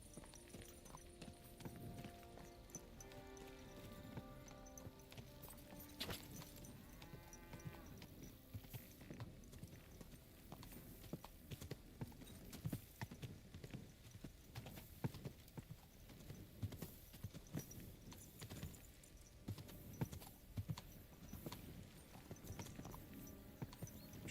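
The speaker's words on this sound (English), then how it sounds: "Don't walk where my horse is walking." Horse hooves clip-clopping at a walk in the medieval game Kingdom Come: Deliverance II, a steady rhythm of hoof steps amid game music and ambience, fairly close, with no talk.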